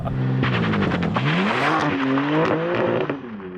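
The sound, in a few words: car wheel hop during burnout in racing video game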